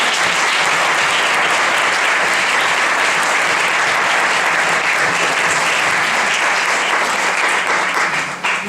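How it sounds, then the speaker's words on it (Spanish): Strong, sustained applause from a lecture audience welcoming a visiting Colombian guest professor at a law and film talk, dense and loud throughout before easing off at the very end. "les pido un fuerte aplauso para él"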